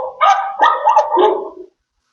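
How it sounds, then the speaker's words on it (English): A talking flash card device plays a recorded dog barking, three quick close yaps in a row, then silence. "D for dog."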